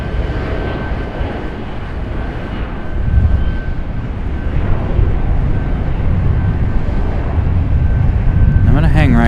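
A Bahamasair airliner flies near Raleigh-Durham International Airport, a loud steady engine roar that swells partway through and holds as the plane passes close by.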